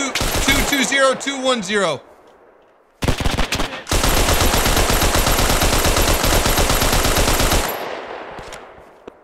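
Heavy gunfire in the World War II shooter game Hell Let Loose, a dense, loud, rapid automatic burst running several seconds after a shouted voice, with brief gaps and a fading tail.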